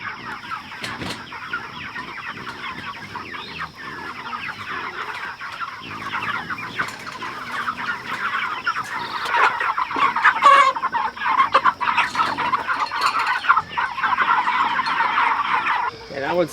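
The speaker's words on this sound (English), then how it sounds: "we're about to process these 150 broiler chickens" A flock of about 150 broiler chickens clucks and chatters on a small farm, a dense, continuous chorus of overlapping calls at moderate loudness, with no clear talk.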